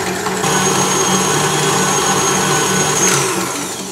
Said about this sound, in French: il faut mélanger les jaunes d'œufs avec le sucre jusqu'à ce qu'ils blanchissent